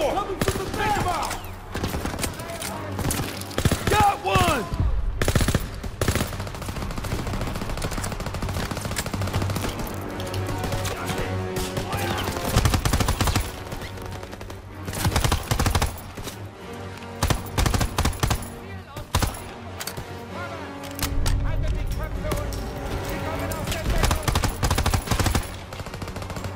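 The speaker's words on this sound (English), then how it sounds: "MG on the second floor!" Bursts of rapid machine gun fire and scattered gunshots in the Call of Duty WWII Stronghold battle, loud and near, mixed with shouted voices and in-game combat noise over a continuous background.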